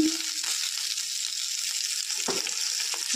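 Oil sizzles steadily in a pan as green chilies fry, a close, even hiss with a couple of brief knocks or stirs and no talking.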